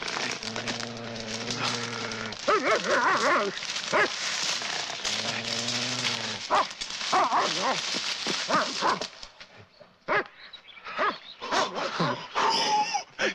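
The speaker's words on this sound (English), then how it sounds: "That's a dog." A dog in a 1972 film scene barks, whines and yips in bursts, close and fairly loud, mixed with a voice and stretches of quieter moments.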